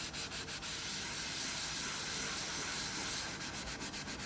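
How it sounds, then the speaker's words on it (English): Caked-on grime being scrubbed off hard, a close, rough, continuous rubbing with quick rhythmic strokes at the start and end, no voices. "I'm scrubbing a little bit harder on this part just because I think it's like a little bit more caked on"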